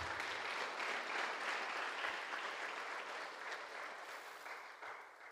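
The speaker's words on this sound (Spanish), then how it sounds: "Aplauso para la majestad de Dios." A church congregation breaks into steady, enthusiastic applause, a thick continuous patter of many hands that holds for several seconds and then slowly tapers off, with no talking over it.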